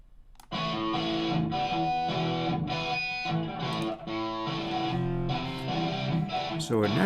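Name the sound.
already distorted electric guitar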